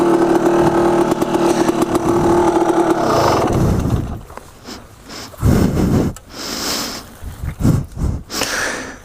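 A dirt bike idles at an off-road vehicle park with a steady, buzzy, close rumble, then the engine cuts off. Rustling, thumps and breathing from moving the bike follow.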